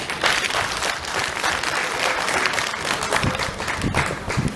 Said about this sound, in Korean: 큰박수 한번 보냈으면 고맙겠습니다